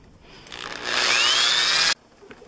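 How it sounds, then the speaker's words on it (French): A power drill bores holes into a cardboard bird feeder base, one close, steady whining run of about a second and a half with rising pitch, quiet before and after. "je vais percer ici une série de 4 fois 2 trous"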